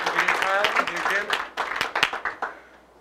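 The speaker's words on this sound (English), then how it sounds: "Big round of applause for Citywide Environmental Solutions." A round of applause for a capstone engineering team at a college presentation event, short and moderately loud, with clapping mixed under voices and thinning out within a few seconds.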